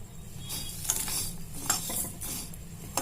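Cinnamon, cloves and cardamom frying in a pan under a soft steady sizzle, with several sharp spoon clinks and scrapes against the metal from close by.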